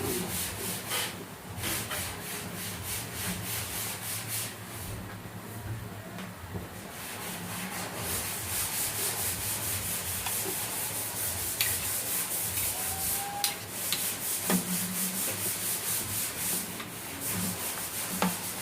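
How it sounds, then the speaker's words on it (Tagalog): Floor being scrubbed and ground by workers upstairs during construction work, a steady loud rasping, rubbing noise that continues throughout with occasional sharper scrapes and knocks. "Kinikis-kis nila kasi yung sahig"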